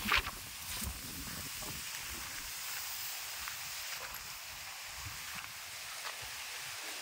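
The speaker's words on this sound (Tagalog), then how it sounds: "Grabe po ang lakas ng hangin." Strong wind blowing in broad, hissing gusts, rushing steadily with no voices.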